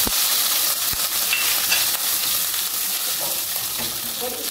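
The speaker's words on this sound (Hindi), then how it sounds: "इसको हल्का सा सौते करते हैं" Garlic and chicken sauté in a pan with a constant close frying hiss and occasional stirring scrapes and taps.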